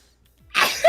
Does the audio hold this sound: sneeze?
yes